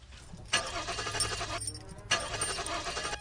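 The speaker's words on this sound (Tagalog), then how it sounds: "Subukan mo kaya uli i-start yung kotse" A car engine is cranked twice with the key, each long grinding whirr failing to catch, separated by a short pause, fairly quiet and close with nothing else sounding.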